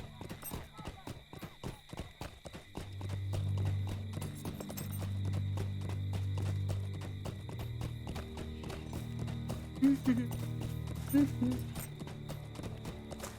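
Horse hooves clip-clopping in the online game Lord of the Rings Online, a rhythmic run of hoofbeats with a low droning ambience and occasional whinnies, with people talking over parts of it.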